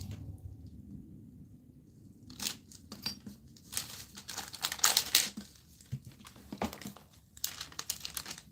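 Polymer clay excess being trimmed off a layered sheet, heard as a string of soft crinkly cutting and scraping scratches, close and quiet with gaps between strokes.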